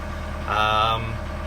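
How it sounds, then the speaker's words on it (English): A narrowboat engine idles steadily while warming up, a low, even diesel rumble close by, with a brief higher tonal swell partway through. "Whilst we're waiting for the engine to warm up"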